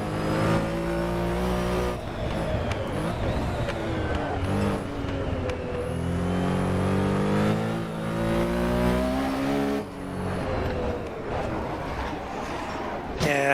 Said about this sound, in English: Every time I come off throttle, you can hear the exhaust crackling.